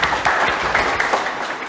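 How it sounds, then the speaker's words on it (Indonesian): A university class claps briefly after a student's answer, a short burst of scattered, rhythmic clapping from a small group of people in a room. "tepuk tangan dulu dong"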